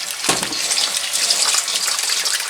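Wool being dunked from boiling water into cold water during washing, giving a steady close rush and gush of splashing water with a brief low plunge near the start, with no talking.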